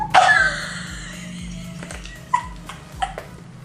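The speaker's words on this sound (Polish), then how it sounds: "To jest czarny pies." A small black dog gives a sharp yip, then a series of soft, high whimpers and short whines, close by and fairly quiet, with no talk over it.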